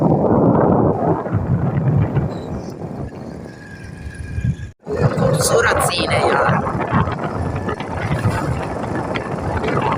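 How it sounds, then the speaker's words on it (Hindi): Cold wind blows outdoors and buffets the microphone with a constant loud rumble that briefly cuts out midway, while someone talks over it. "ठंडी हवा चल रही है"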